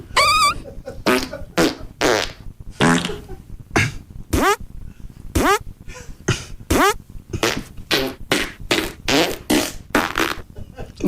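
A rapid string of comedic fart sound effects played from a soundboard on a radio show, many short sputtering bursts in quick succession, loud and close, with little talk between them.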